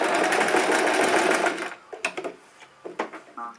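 A sewing machine stitches scrunchies in a fast, continuous whirring run, then stops and gives a few short stuttering bursts with pauses between them.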